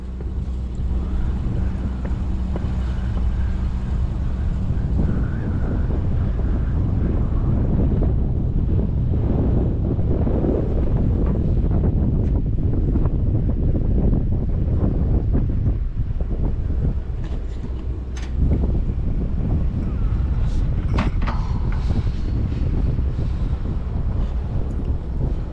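Steady outdoor wind buffets a camera microphone on a mild day, a continuous loud low rumble with gusty swells throughout and no voices, with occasional faint higher clicks and tones from a fertilizer plant setting.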